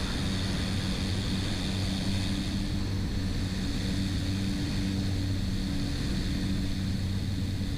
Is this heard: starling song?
no